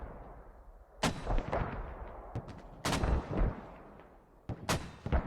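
Video game gunfire during a competitive match, with several heavy shots and bursts spaced a few seconds apart over rumbling background action.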